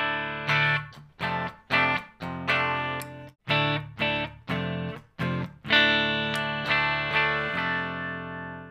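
Les Paul Custom electric guitar in drop D, clean tone through a Friedman BE-OD pedal into a Two Notes Le Clean, playing a rhythmic riff of chords with short muted stops between them, then longer ringing chords that decay at the end.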